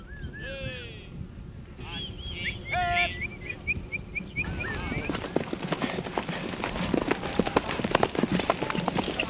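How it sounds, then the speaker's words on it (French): Horses' hooves clop as stockmen herd cattle on horseback across a vast New Caledonia station, with chirping birdsong early on and the irregular hoof rhythm growing busier toward the end. "Les stockmen, qui ont emprunté leur appellation aux voisins australiens, rentrent toujours le bétail à cheval sur les immenses stations."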